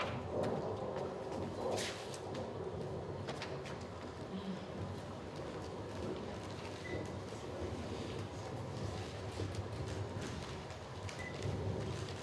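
Steady rain falls without a break, with low rumbles of thunder rolling underneath throughout, and no one speaks.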